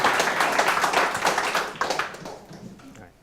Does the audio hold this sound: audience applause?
yes